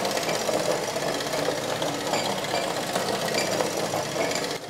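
A 1972 Mamod SR1a model steam roller runs fast in reverse, giving a steady, busy mechanical chatter with a rapid ticking rhythm that holds at an even level throughout, close and alone.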